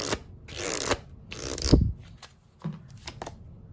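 Oracle cards being shuffled by hand, several crisp riffling bursts of card stock in quick succession, close and clear with brief pauses between, no talking.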